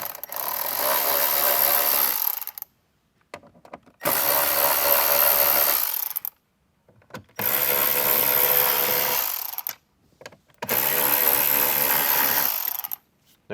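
A power tool with a 7mm bit backs out bolts on a '24+ Jeep Wrangler JL, four whirring bursts of about two seconds each, separated by short silences.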